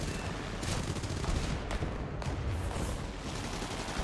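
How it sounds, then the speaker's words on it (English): A rear gunner fires a sustained burst in War Thunder, a dense rattling volley over roaring engine noise, with a few sharper cracks standing out. "my gunner just fired off a burst to basically say fuck off"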